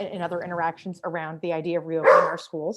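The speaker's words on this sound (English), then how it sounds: "Pardon my dog. He also wants to participate" A pet dog barks once, loud and close, during a home video call for a school board meeting, the bark landing partway through steady, ongoing talk from the person on the call.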